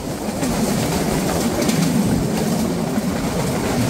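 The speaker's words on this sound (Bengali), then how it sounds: "চলতি পথেই দেখা হয়ে গেল উত্তরবঙ্গের একটি ট্রেনের সাথে।" An intercity passenger train rushes past close by in Bangladesh, heard from the Kapotaksha Express, steady loud roar and rattling of carriages with no voices.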